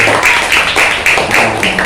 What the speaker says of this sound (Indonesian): Tepuk tangan untuk Mas Wildan teman ini ya